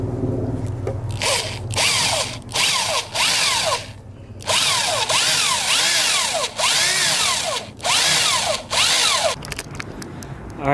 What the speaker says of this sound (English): use an actual 3/8 to drill the hole in.